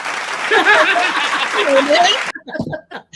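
Studio audience applauding on a couples talk show, a dense burst of clapping mixed with chuckles and voices that cuts off sharply, leaving a few scattered sounds afterward.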